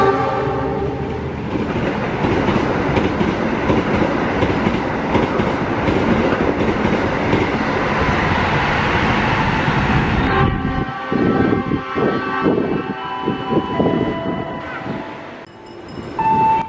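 A passenger train rolls through Tambun station with loud continuous wheel and carriage rumble, then a long horn sounds near the end as the clatter thins out.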